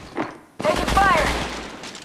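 Rapid gunfire bursts in the mobile battle royale game Apex Legends Mobile, loud and sustained after a brief lull, mixed with in-game voice callouts.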